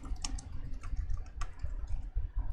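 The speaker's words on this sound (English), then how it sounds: "I'm just getting to a text terminal so I can type it" Typing on a computer keyboard at a text terminal: a quick, uneven run of close keystroke clicks and taps, with no voices.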